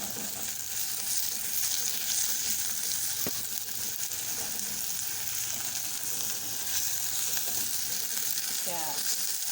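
Garlic frying in plenty of cooking oil in a pan, a steady close sizzle with soft crackle that runs unbroken throughout, with an occasional faint clink of stirring.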